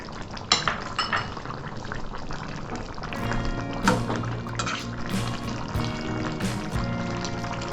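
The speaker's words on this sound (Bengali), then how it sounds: "এবার আমি একটু নেড়ে চেড়ে এর মধ্যে একটু ঘি দিয়ে দিচ্ছি।" A pot of shukto, a Bengali vegetable curry with fried lentil dumplings, is stirred with utensils clinking and scraping against the pot, along with liquid sounds as ghee is added. Irregular metallic knocks come close and fairly loud throughout.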